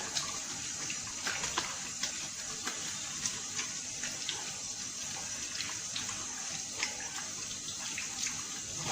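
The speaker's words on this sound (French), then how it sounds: "je me lave bien les mains avec de l'eau savonneuse" Hands are washed with soapy water under a running kitchen tap, a steady close hiss of flowing water with faint splashes and rubbing throughout, no voices.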